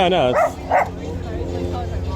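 Dogs bark in two quick, close bursts early on, followed by steady background noise and murmuring voices.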